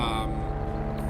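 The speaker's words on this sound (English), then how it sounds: "I do love the engine sounds of the Vulture." Engine hum of a Vulture ship in the Elite Dangerous space game: a steady, loud, droning tonal hum with layered low harmonics, continuous and unchanging throughout.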